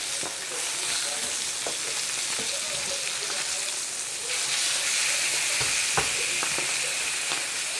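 Barramundi fish frying in a pan, a loud continuous sizzle close by with a few sharp pops and clinks, steady throughout.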